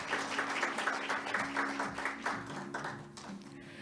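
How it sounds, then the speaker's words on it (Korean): Audience applause welcomes the Prime Minister at the opening ceremony of an international conference on employment and labor, with steady, dense clapping filling the hall before it thins out near the end. "여러분 뜨거운 박수로 환영해 주시기 바랍니다."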